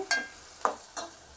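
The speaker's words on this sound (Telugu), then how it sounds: "ఉల్లిపాయ ముక్కలు లైట్గా వేగాయి కదా" Sliced onions frying in a pan for an Andhra-style chicken curry, heard as three separate bursts of sizzle and spoon-scraping stirs at a quiet, even level with no talk.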